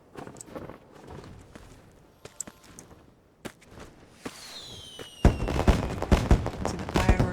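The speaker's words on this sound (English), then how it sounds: "When I went past that little tub there, it lit, and I got fireworks" Fireworks in the game Sky: Children of the Light, a scattered crackle and pop that builds into a dense, loud burst of bangs toward the end, after quieter soft steps and taps.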